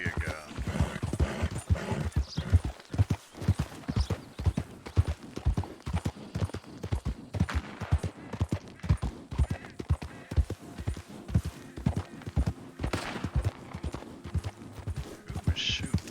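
Horse hooves clip-clop steadily through Red Dead Redemption 2, a rhythmic run of close, fairly loud hoofbeats that carries on throughout while someone talks over it.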